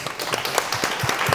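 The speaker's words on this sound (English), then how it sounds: "Round of applause for our panelists." Audience applause for conference panelists after a talk on machine creativity, a steady dense patter of clapping from a full room, loud and continuous with no voices over it.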